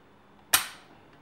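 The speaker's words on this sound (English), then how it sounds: "We're going to go ahead and test the trigger pull on it." A single sharp click from an AR-15 trigger with a factory Anderson mil-spec lower parts kit breaking during a trigger pull test; one brief, close snap in an otherwise quiet room.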